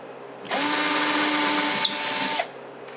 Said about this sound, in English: next I'm going to go ahead and drill a pilot hole for each of the drywall anchors